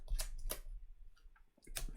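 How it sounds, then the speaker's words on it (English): A deck of board game cards is shuffled on a tabletop, with quiet crisp riffling bursts and clicks in short repeated strokes, close and faint, with no talk. "let's give it a good shuffle"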